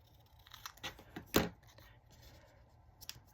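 A paper file folder is snipped with scissors at a craft table, a few quiet close cuts with one sharper crisp snip, and faint rustling between them.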